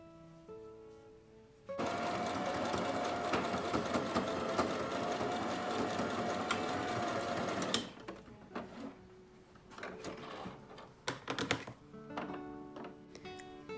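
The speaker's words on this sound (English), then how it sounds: "sew the two ends together so when you turn it over" A sewing machine runs in one continuous, fast, rattling stitch for about six seconds as it sews the ends of a knit fabric headband together. Quieter clicks and handling sounds follow.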